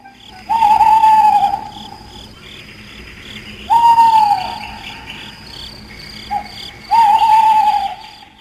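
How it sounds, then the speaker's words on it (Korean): An owl hoots three times near a collapsed earthen wall, each call a loud, drawn-out tone with a quick upward swoop and slow fall, separated by short quiet gaps over a faint chirping insect background. "저 부엉이가 뭐라고 하느냐?"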